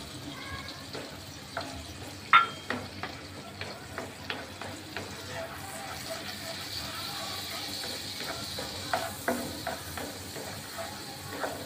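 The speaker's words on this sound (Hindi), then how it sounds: "30 से 40 सेकेंड इसको सॉटे करेंगे। ये हल्का सा ब्राउन हो गया है।" Finely chopped garlic sizzling in melted butter in a pan, a soft continuous fry with small clicks and scrapes from stirring throughout.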